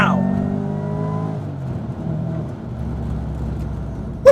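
A supercharged car's engine drones close and loud, with the tone falling off as revs drop after acceleration, then settling into a steady rumble that ends with a brief sharp knock.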